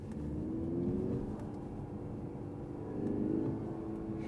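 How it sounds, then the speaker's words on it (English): Turbocharged engine of a 2024 Mercedes-Benz CLE 300 4MATIC, heard from the cabin as a low steady drone that swells twice, with a faint rising turbo whine under it. "you can even hear some turbo sounds going on, like the spooling of the turbo and then the blow-off valve"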